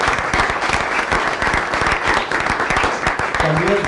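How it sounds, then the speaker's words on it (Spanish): A theatre audience applauding at the presentation of a classical play, dense rapid clapping from many hands, loud and sustained throughout, with a voice briefly rising near the end. "Quiero un fuerte aplauso para José Pascual como director, Pepe Ocio"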